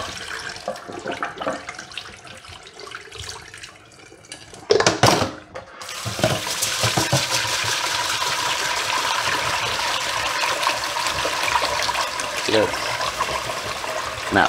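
Water runs steadily from a tap into a bowl for rinsing sushi rice, beginning with softer trickling and handling sounds, then a brief clatter before the flow becomes a loud, continuous splash.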